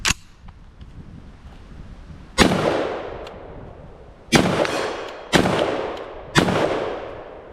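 A Genesis Arms Gen-12 12 gauge semi-auto shotgun fires Federal Premium low recoil 1-ounce slugs outdoors: four loud, sharp blasts with echoing tails, spaced irregularly about one to two seconds apart, after a quieter opening pop.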